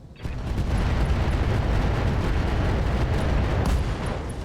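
A heavy, continuous roar of MRM-40 missile salvos launched from a mech in the battle game RogueTech, a loud, dense rumble sustained for several seconds with no talk.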